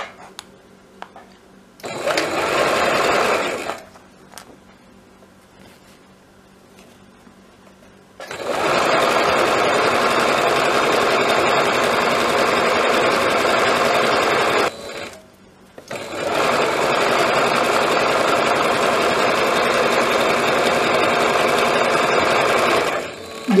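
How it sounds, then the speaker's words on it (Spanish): Sewing machine stitching the sleeve seam of a shirt, three bursts of rapid, loud mechanical whirring separated by short pauses, close by with no talk. "Ahora le damos la terminación a la costura de la manga."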